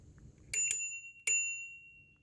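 A bicycle bell is rung three times: two quick bright dings close together, then a single ding after a short pause, each ringing out and decaying cleanly over near silence.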